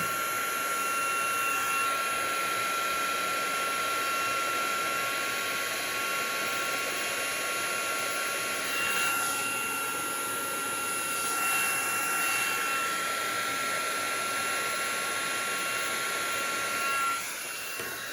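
A heat tool blows steadily to make puff paint puff up on a craft project, giving a continuous close whooshing hum with a faint high whine that shifts slightly as it moves.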